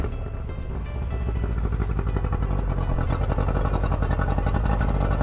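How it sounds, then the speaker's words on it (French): Yamaha 60 hp two-stroke outboard motor running after starting, a steady close buzzing engine drone with rapid rattling pulses that grows slightly louder, no voices. "J'ai commencé par démarrer le moteur."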